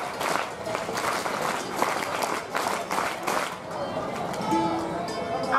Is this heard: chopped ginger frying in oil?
no